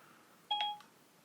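A smartphone voice assistant wakes with a short, quiet two-tone electronic chime, a bright bleep or two rising out of faint room hiss and fading quickly.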